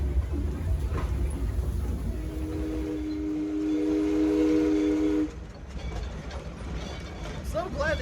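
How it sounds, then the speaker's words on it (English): A train whistle sounds in a steady, tuneful blast for a couple of seconds over the rumble of a moving train at Six Flags Over Texas, then cuts off as the rolling noise continues. "So glad they finally managed to tune that whistle."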